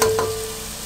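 Tomatoes fry in a pan for Chinese-style chicken fried rice, giving a brief, steady close sizzle with a faint stirring touch.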